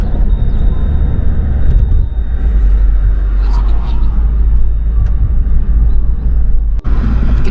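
A car cruising along a toll road in Kuwait, heavy steady low engine and road rumble from inside the cabin, loud and unbroken, with a voice talking over it at times.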